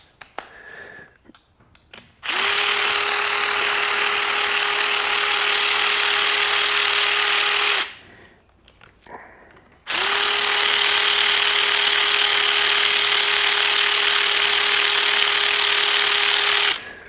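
Two long sustained mechanical whirring runs with a steady tonal hum, each several seconds, separated by a short pause with light clicks, from a ratchet breaking loose 5 mm Allen bolts on a Bennche Spire 800 engine during teardown.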